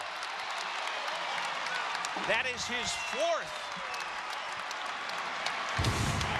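Crowd in a St. Louis basketball arena applauding and cheering during a college game blowout, a steady broad roar throughout with a commentator talking over it.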